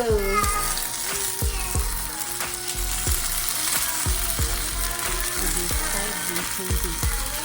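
Birria quesa taco frying in a pan on a stove top, a steady loud sizzle broken by repeated sharp clicks and scrapes from nearby handling.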